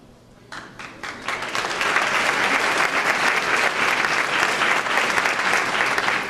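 Audience applause at a police youth academy cadet awards ceremony, building from a few claps into dense, steady clapping from a sizable crowd that holds loud and continuous.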